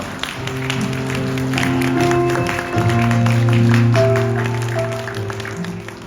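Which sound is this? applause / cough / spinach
applause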